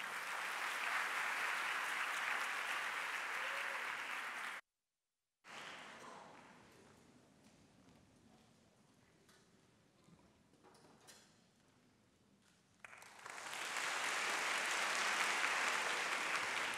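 A school audience applauding at a championship event: loud, dense clapping, then a sudden drop to near silence and a quieter stretch of scattered noises, before a second loud burst of applause.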